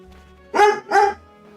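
A pet dog barks twice indoors, two loud, close barks about a third of a second apart against a quiet room with a faint low hum.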